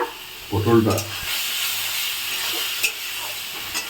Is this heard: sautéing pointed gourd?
yes